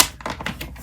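A paper trimmer blade slices through two stacked sheets of cardstock, making a quick run of close, sharp clicking and scraping ticks that start loud and carry on in a rapid uneven rhythm.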